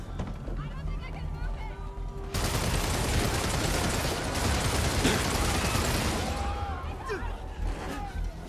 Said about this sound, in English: are they shooting civilians?